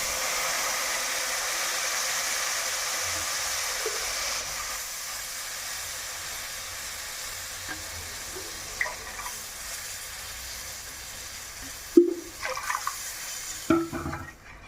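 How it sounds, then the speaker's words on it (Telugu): Water poured into a hot pan of roasted semolina while making Bombay ravva payasam gives a steady, close hiss and sizzle, ending in a few sharp clatters. "ఇప్పుడు ఇందులో ఒక 4 కప్పులకి వాటర్ అయితే పోసుకోవాలండి."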